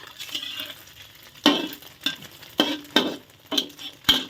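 A Thai omelette fries in oil in a pan with a soft, continuous sizzle, broken by about six sharp scraping strokes of a utensil against the pan at a slow, uneven pace, with no talk.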